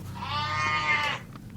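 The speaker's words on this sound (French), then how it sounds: "Emanoussou pour nous faire vivre l'ambiance qui prévaut actuellement sur le site de vente de moutons du parc de Tchaourou" A single sheep gives a clear, sustained, wavering bleat of about one second, close by at a sheep sale market in the Tchaourou park at Parakou.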